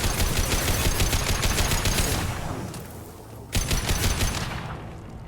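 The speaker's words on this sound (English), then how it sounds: "His mechs shoot without question." Mechs blasting away in Mass Effect 2 with loud, continuous rapid-fire gunfire that thins briefly before a sharp burst resumes the barrage.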